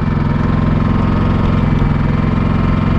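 A Champion 4500 inverter generator runs in eco mode with a steady, even engine hum and a low vibrating drone, constant and close throughout, without any voices.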